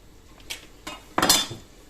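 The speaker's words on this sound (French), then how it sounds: "Je vais les écraser, je vais faire une écrasée de pommes de terre" Potatoes being mashed in a bowl or pot, heard as a few short metallic scrapes and clanks of the utensil, with one louder, longer scrape near the end, close up and without talk.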